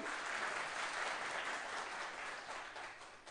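Audience at an Istanbul Çorum association gathering breaking into steady, dense applause that fills the space, holding strong before tapering slightly toward the end, with no voices over it.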